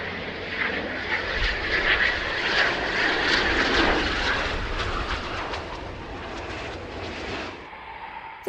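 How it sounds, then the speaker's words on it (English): RAF Typhoon jet fighters flying, a loud, steady roar of jet engines that fades slightly toward the end before cutting off. "RAF jet fighters have intercepted two long-range Russian military aircraft approaching UK"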